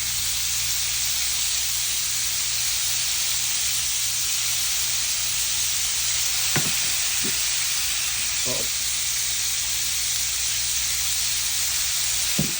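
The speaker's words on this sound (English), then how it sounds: "Now we're gonna add our venison to the pan." Venison pieces fry in butter in a hot pan, giving a loud, steady, even sizzle and hiss throughout, broken only by a few brief faint clinks.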